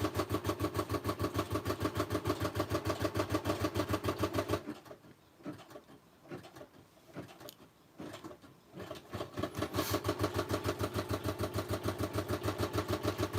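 A Brother SE425 embroidery and sewing combo machine running fast and steady with a rapid mechanical rattle. It stops for several seconds, leaving quiet room sounds, then starts up again at the same pace.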